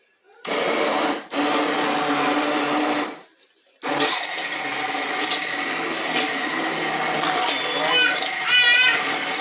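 An electric blender grinds tomatoes into sauce in a loud, steady roar, with a short burst, a brief stop, then a longer continuous run. Voices are faintly heard near the end.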